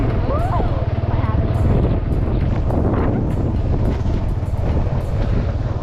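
Strong wind buffets the microphone outdoors in a steady, loud rumble throughout, with a few faint voices murmuring beneath it.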